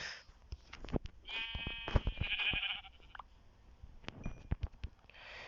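A Minecraft Pocket Edition sheep bleats a couple of times amid clicks and soft taps, a game-like farm animal call, fairly close and moderately loud.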